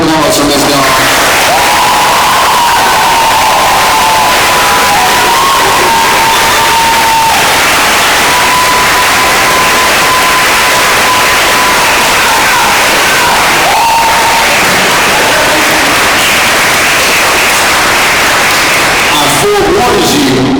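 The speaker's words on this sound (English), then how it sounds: "first of all, round of applause for Ms. Dawn" An audience at a senior thesis presentation applauds and cheers loudly and steadily for a presenter, a dense, continuous wash of clapping and shouting voices lasting throughout.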